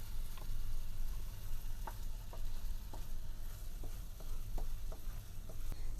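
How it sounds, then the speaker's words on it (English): Onion, tomato and spice paste sautéing in hot oil for mushroom masala, a steady close sizzle with scattered soft ticks and pops from stirring throughout, no talking. "once the oil has heated up, we're going to add the paste,"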